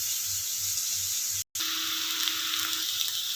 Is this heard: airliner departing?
no